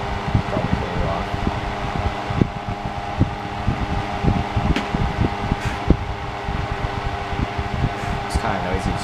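A 7-inch Holmes Tropicool desk fan runs steadily nearby, giving a continuous whirring hum with a rattly, fluttering low-end drone that stays at the same level throughout.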